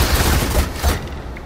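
A volley of arrows loosed together in Assassin's Creed Valhalla, a dense, loud burst of overlapping thuds and whooshes that rattles for about a second before tapering off.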